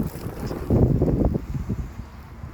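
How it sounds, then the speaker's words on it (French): Gusty wind buffets the microphone outdoors, a rough low rush that swells in the middle and then eases, with no talking. "Du vent là."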